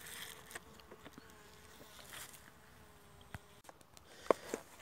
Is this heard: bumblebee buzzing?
yes